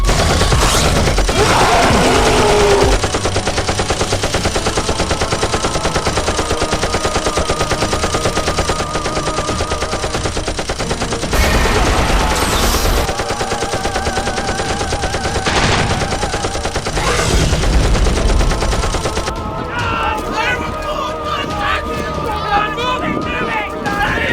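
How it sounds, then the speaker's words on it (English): Heavy gunfire aimed at the Gigantoraptor in a Godzilla film, dense machine-gun fusillades blending into a loud continuous roar, with shouted voices and chaotic noise mixed in. "Open fire on the Gigantoraptor! Fire! Fire at will!"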